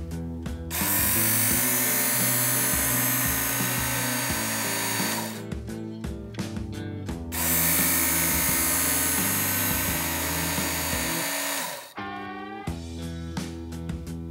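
A Work Sharp Original knife and tool sharpener whines loudly and steadily as a knife makes a few grinding strokes, with two long bursts separated by brief pauses where the motor tone shifts.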